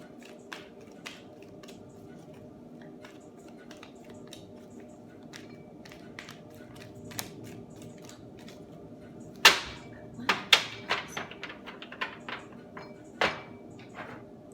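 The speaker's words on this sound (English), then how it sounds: "3 more shuffles and I will cut the deck." A tarot deck being shuffled quietly, then a cluster of sharper snaps and slaps as the deck is riffled and squared, close by.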